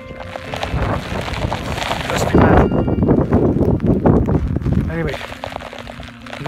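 Strong gale-force wind with heavy rain buffets the microphone beside a lake in Snowdonia during a Cadair Idris wild camp, a loud continuous roar and rush under a man's speech.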